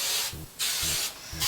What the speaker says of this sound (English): give my hair a quick spray with this Tresemme 2 spray